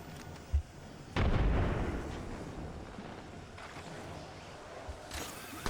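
Frag grenade explosion in an Apex Legends match: a short thump, then a louder blast with a lingering rumble that fades under faint background game sounds.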